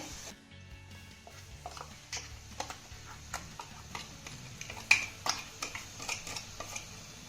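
Ground coconut masala paste being added to okra with tamarind pulp in a pan: soft irregular clinks and taps of a spoon against metal, faint and close, with a low background hum.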